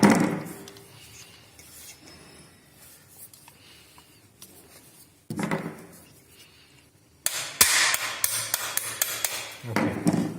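A hammer taps a pin in a Pardus SS gas-operated semi-auto shotgun in several bursts of quick, sharp metal strikes, close and crisp, separated by quieter pauses with faint handling noise.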